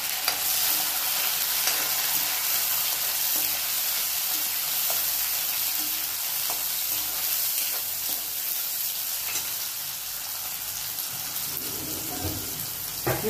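Tomatoes sizzling and frying with onions in a pan during preparation of a Marathi vegetable dish, a steady dense crackle held close and loud the whole way through, with faint stirring movement and no talking.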